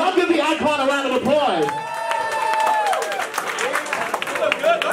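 A crowd at a Philadelphia kiki ball applauds and cheers for an icon, with dense clapping and whoops under loud voices and music.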